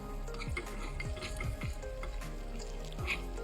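Crushed garlic, cumin and mustard seeds fry in hot oil for a fenugreek-leaf dal, giving a steady close sizzle with small crackles and pops throughout.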